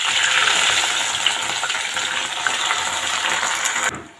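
Washed gongura leaves crackle and sizzle loudly in hot oil, a continuous close frying hiss with small pops that stops abruptly near the end.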